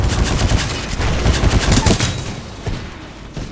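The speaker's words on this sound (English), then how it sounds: "Splitter rifle on target." Splitter rifle fire in Titanfall 2 multiplayer: a loud, rapid stream of sharp shots that keeps going through most of the moment, then thins toward the end.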